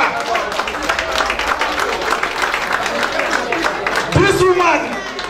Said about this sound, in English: Muna clap for her.